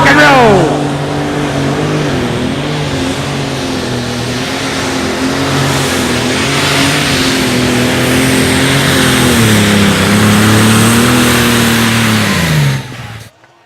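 An unlimited super stock pulling tractor engine roars loud and close at an outlaw truck and tractor pull, holding a sustained, wavering howl for over twelve seconds before cutting off abruptly.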